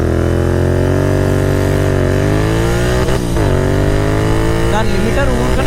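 Royal Enfield GT 650 and KTM Duke 390 motorcycles rev hard and close by, a steady engine drone with pitch dips and climbs as the revs bounce near the limiter, loud throughout.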